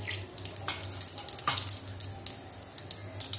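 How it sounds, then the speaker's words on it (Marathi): Cumin and mustard seeds sizzle in hot oil for sambar, a steady close frying hiss with scattered sharp pops and crackles rising through it. "तेल गरम झालेलं आहे, त्याच्यामध्ये आपल्याला जिरे आणि मोहरी टाकायचे आहे।"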